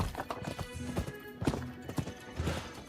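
Galloping horse hooves from the video game Rise of the Ronin, a quick uneven clatter of hoofbeats over a faint game soundscape, fairly quiet throughout.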